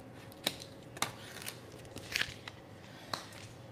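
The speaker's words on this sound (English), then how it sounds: "Take your blade, man, and cut in the groove." A blade cuts vinyl freezer wrap along a groove on a chest freezer, producing a series of sharp, faint clicks and crisp ticks at irregular intervals.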